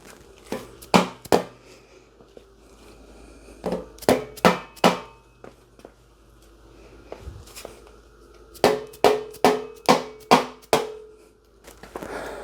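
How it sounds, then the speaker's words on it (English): A rubber mallet taps on metal in short clustered runs of sharp knocks, several blows in a row, then pauses before the next series, while a Ford 9-inch rear end is assembled for a 1969 GTO. "now you can go around with a rubber hammer and get it as close to even as possible"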